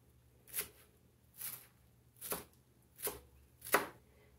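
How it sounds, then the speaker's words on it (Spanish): Fresh cilantro chopped with a knife on a cutting board: five separate, crisp knife strikes at a slow, fairly even pace, close and quiet, with no talking. "a picar nuestro cilantro."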